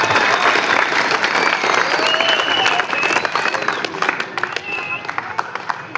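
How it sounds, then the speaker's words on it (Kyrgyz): A crowd at a boxing event in Kyzyl-Kiya applauds loudly for a sports club's head coach, dense continuous clapping close and full, thinning slightly toward the end. "Ахмат спорт клубунун башкы тренери Анваров Асылбек агага катуураак эле кол чаап бериңиздер."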